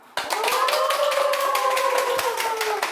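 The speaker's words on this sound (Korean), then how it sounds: "지금 박수 타이밍 아주 좋아요." Studio audience clapping at a Korean history lecture show, a steady burst of many hands starting abruptly and sustained for a few seconds, with a faint tonal line running underneath.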